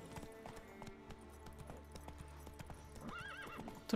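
A horse's hooves clip-clop steadily in The Witcher 3, with a whinny rising near the end; the hoofbeats are fairly quiet and even, set against low game ambience.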